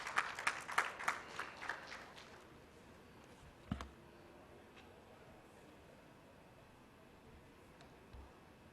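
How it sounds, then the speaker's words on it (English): An audience at an education conference gives a short burst of applause that quickly fades out, followed by a quiet room with a single faint thump. "I request all of you to give a round of applause for Virupaksha"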